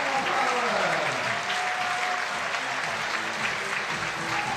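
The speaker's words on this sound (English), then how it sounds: "Listen to this crowd." A large crowd at a lead climbing semi-final in Prague claps and cheers in a steady, dense wash of applause, with a commentator's voice faintly under it.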